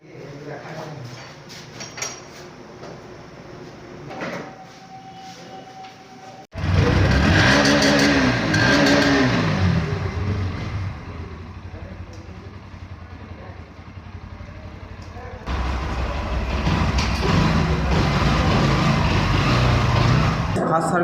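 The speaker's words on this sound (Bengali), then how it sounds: "আর এখন মিস্ত্রি একবার চালিয়ে টেস্ট ড্রাইভ নিতে গেল" A Bajaj Pulsar NS 125 motorcycle, just back from its first service at a workshop, idles quietly under voices, then revs up loudly and runs close by with a strong, steady engine roar that swells again near the end.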